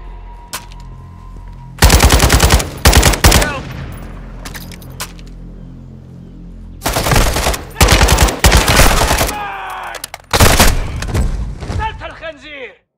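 Rapid automatic gunfire in the 2022 Call of Duty: Modern Warfare II campaign, loud close bursts repeating in several volleys with thuds and pauses between them, and a voice speaking over the shooting.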